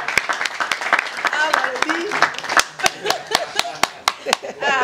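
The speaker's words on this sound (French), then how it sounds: "on applaudit pour l'acteur." Applause for the lead actor at a comedy show, sharp irregular claps from a modest group, close and loud, with voices and cheering mixed in throughout.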